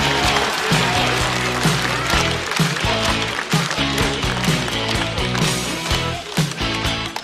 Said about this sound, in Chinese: 掌声送给岛主